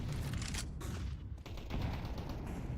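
Pistol shots in a competitive shooter match, a few sharp cracks standing out from a dense, noisy mix of game sounds and effects.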